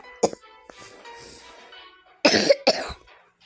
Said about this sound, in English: Need to have a cough.